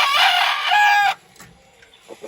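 A small fighting rooster crows loudly and close for about a second, its strained call cutting off abruptly, followed by a few faint clucks and soft rustles.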